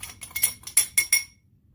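Colored sand being mixed in a container gives a run of about six quick scraping, clinking strokes at a brisk, even pace, close and crisp, and then stops.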